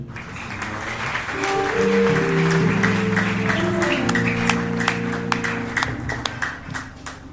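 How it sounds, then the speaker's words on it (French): A church congregation claps and cheers for the pastor and God, with steady loud applause and sustained vocal cheering and ululation rising then gradually tapering off. "Acclamez d'abord pour le pasteur, acclamez pour notre Dieu."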